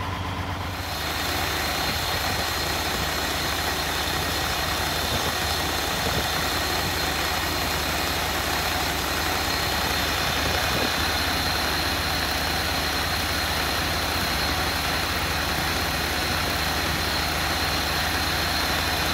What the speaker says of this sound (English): you're not gonna be able to hear me over top of the auger motor